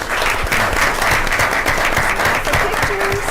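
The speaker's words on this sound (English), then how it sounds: "Can we give them a round of applause?" Loud, steady applause from an audience at a school board meeting honouring second graders, dense clapping sustained throughout at close range.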